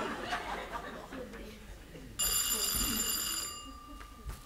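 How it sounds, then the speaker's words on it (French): An old telephone rings loudly with a bright, bell-like trill for about a second and a half, cutting in over light laughter and chatter in a room, then stops and the voices carry on. "C'est la sonnerie de quelqu'un qui se trompe"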